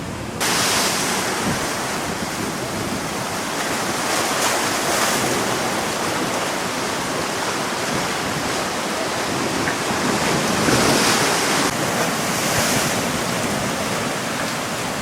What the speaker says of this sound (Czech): Jsou tady poměrně velké vlny.